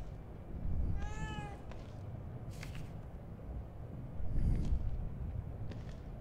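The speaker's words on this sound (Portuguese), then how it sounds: "Eu não me lembro de ter um gato." A cat meows twice in the horror video game The Evil Within 2, a short rising-falling mew then a softer one, heard faintly over low rumbling ambient noise with no talk.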